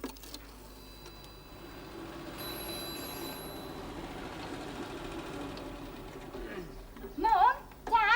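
A telephone rings in a home, two short warbling bursts near the end that rise clearly above a low background hum.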